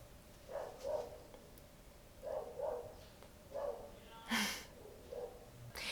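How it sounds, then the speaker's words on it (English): A dog barks in the neighborhood, several short barks spaced apart at a distance, fairly faint, with a few louder noises between them. "Always gotta be a dog barking in this neighborhood"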